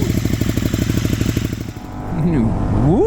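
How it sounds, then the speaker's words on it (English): A 2015 KTM Super Duke exhaust pulses close by in a rapid, even idle rhythm, then quiets as the engine note drops and a voice begins talking over it. "Pretty good sounding exhaust."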